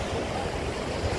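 A mountain river rushes through Solang valley near Manali, a dense, steady broadband roar of flowing water, close and unbroken, with no voices.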